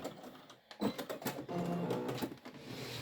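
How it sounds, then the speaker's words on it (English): A sewing machine back-stitches a couple of stitches at the top of a fabric bag, giving a close, steady mechanical whir and rapid needle clatter with a brief pause and change of direction partway through. "Then when we get to the top of the bag, I'm going to just back stitch a couple stitches."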